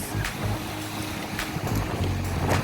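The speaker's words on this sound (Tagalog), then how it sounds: "talagang napaka mahangin" Strong wind gusting across an artificial dolomite beach by the sea, heavy buffeting rumble on the microphone with surf in the background, loud and continuous with several sharper gusts.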